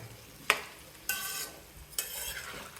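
Amla gooseberries fry in sesame oil for Tamil-style pickle with a quiet bubbling sizzle, broken by three brief scraping stirs of a spoon in the pan.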